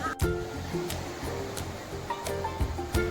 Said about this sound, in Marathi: समुद्राच्या लाटांचा जो आवाज येतोय ना, खूप भारी वाटतं ऐकायला